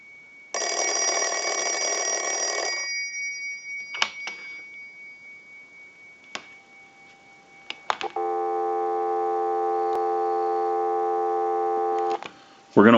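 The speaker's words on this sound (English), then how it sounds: "we'll give you some dial tone" A single ring burst from an Automatic Electric Monophone rotary telephone is followed by clicks and handling knocks, then a steady, loud dial tone from a line analyzer hums for several seconds before cutting off with a clunk.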